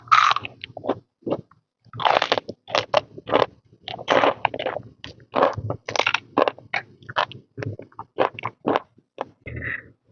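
Crispy fried fish belly crunches loudly between the teeth, with a quick series of sharp, close bites and chews and no talking.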